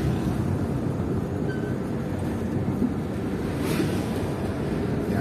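The Sungai Ning river in Kerinci rushes in a constant, full broadband roar close by, without pauses or voices.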